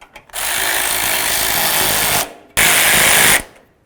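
A power tool tightens control arm bolts on a 2006-10 Dodge Charger's front lower rearward control arm, giving two loud, close bursts of whirring and rattling, a long one then a shorter one after a brief pause.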